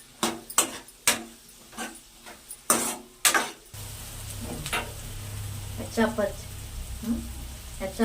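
Snake gourd milk curry being stirred in a pan, a spoon scraping with sharp clicks early on, then a steady sizzle and bubbling simmer underneath with occasional scrapes and taps.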